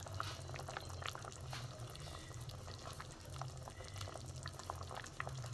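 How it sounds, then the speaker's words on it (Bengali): Ghee poured over a hot vegetarian curry of botboti beans and lentil-cake dhoka dalna: a steady, even hiss and bubbling simmer, continuous and moderately quiet, with no voices. "আমি উপর থেকে একটুখানি ঘি দিয়ে দেবো।"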